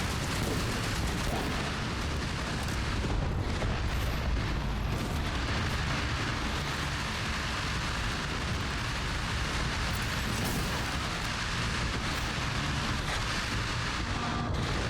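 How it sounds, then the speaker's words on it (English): Heavy, nonstop gunfire and explosions from the Outpost Infinity Siege video game fill the whole stretch as a dense, loud, continuous roar of shots and booms. "What a stupendous amount of gunfire."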